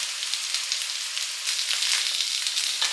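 Potato slices roast in a hot pan with a steady, dense crackling sizzle, close and continuous, with no voices.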